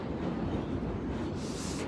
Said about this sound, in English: You hear that noise? That's the subway train running.